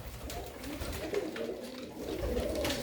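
Blue pigeons cooing nearby, soft low rolling coos repeating over a quiet background.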